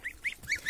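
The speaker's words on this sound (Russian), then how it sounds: "Вот такие наши ути и гуси." Geese honk in four short, clear calls spaced evenly across the moment, close by on a poultry yard with ducklings and goslings, no talking.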